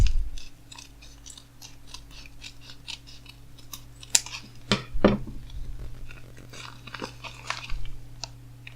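Crinkling plastic and paper rustles with scattered clicks and tearing sounds, close and intermittent over a low electrical hum, as a package holding Xiaomi Piston Colorful Starter Edition earphones is opened.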